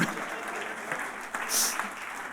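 An audience applauding a speaker in a continuous, moderately loud wash of clapping across the whole short stretch.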